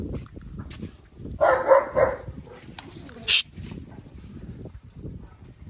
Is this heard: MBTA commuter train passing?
no